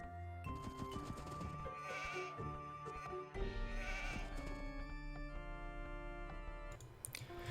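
Sheep bleating in Age of Empires II, an Arabia 4v4 match, with game music and tonal effects running throughout and busy clicks and unit sounds layered over a steady background.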